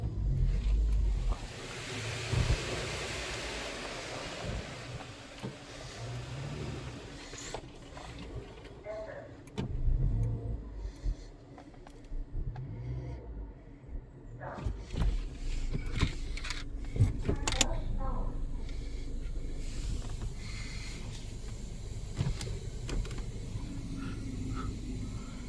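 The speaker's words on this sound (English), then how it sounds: "Today we're going through some unknown Bellinger style car wash machine." A touchless car wash machine runs at a Gulf gas station, giving a rumbling, hissing mechanical drone with spraying bursts and clunks that shift over time, while someone talks over it.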